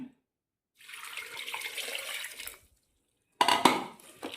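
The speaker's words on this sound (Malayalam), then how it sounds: "ഇനി നമുക്ക് വെള്ളം ഒഴിക്കാം." Water is poured into a pressure cooker holding papaya pieces with turmeric for a curry, a soft splashing stream lasting a couple of seconds, then a short louder splash and clatter near the end.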